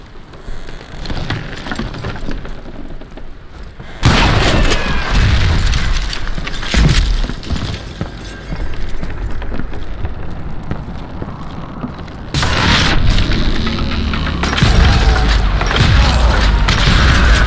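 Dynamite blasts in the Western shooter Call of Juarez: Gunslinger: heavy booming explosions erupt at intervals over a continuous rumbling, crackling wash of debris and action noise, loud and close.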